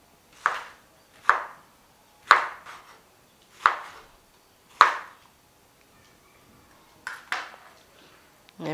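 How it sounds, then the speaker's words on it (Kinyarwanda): A knife chops through a big mango on a cutting board: five crisp, evenly spaced strikes, a pause, then a few lighter cuts, close and clear in a quiet kitchen. "Shyire hano umwembe, ndakata umwembe munini."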